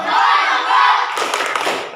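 A classroom of students performs the rhythmic 'tepuk fokus' group clap, a burst of sharp, fairly loud hand claps in quick patterned succession following a stretch of voices.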